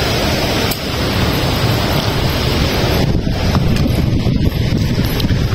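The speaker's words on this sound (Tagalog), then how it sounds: "Hangin, no?" Strong seaside wind at a resort in Calasiao, Pangasinan, blasts the microphone in a loud, steady roar throughout, with a hint of surf underneath.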